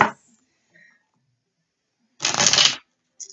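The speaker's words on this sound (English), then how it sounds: "Shuffle all these cards." Tarot cards riffle-shuffled in one quick burst of crisp flapping, with a short snap at the start and a brief shuffle at the end, otherwise quiet.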